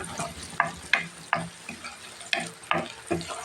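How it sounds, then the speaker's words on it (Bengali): Green chilies fry in a pan of oil for a taro mash, a steady low sizzle broken by repeated scraping stirs of a spatula at an uneven rhythm. "কিছুটা কাঁচামরিচে দিয়ে দিলাম এখন প্রায় লাল হয়ে আসছে"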